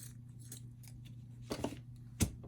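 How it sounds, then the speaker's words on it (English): Scissors trim the top piece of a no-sew dollar-store gnome bride craft, giving a few close, crisp snips, with one sharper cut near the end over a quiet hum. "I'm going to trim the top piece just a little bit."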